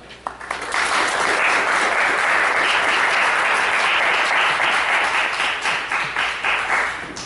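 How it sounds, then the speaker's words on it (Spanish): Loud, steady audience applause fills a lecture hall at the opening session of an academic colloquium, holding full and dense for several seconds before tapering slightly. "vamos a recibirlo con un fuerte aplauso."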